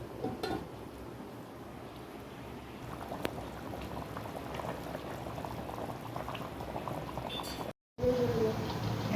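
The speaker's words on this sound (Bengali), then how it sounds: "দেখো ফুটছে ফুট ধরে গেছে" Water rolls at a steady boil in a cooking pot, a close, continuous bubbling churn that cuts out for a moment near the end before returning.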